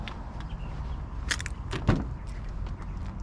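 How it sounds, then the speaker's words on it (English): The door of a 2003 Ford Mustang Mach 1 is opened, a quick latch click followed by a short thud and a rustle over a low idling background, all fairly close and brief. "You mind if I open up the door?"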